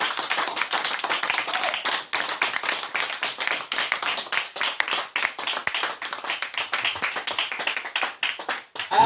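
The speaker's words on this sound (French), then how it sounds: "Tu peux acclamer très fort pour Jésus." A church congregation claps loudly for Jesus, a dense run of sharp hand claps filling the room without a break, some voices blended faintly underneath.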